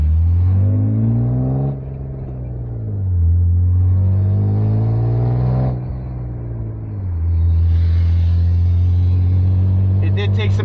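BMW E36, a 24-year-old car fitted with a Remus exhaust, revving loud and close, its engine note swelling and falling across several throttle blips, with a deep steady rumble underneath.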